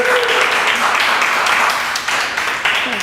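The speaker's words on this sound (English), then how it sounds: "round of applause" An outdoor live-event crowd in New York claps and applauds steadily throughout, a dense wash of hand claps at fairly close range with no break.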